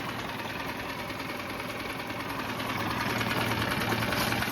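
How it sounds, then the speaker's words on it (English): A 6 HP Tohatsu four-stroke short-shaft outboard engine idles steadily nearby, its even mechanical drone filling the whole stretch, alone and without speech. "we'll let it tick over. 6 horsepower Tohatsu 4-stroke engine"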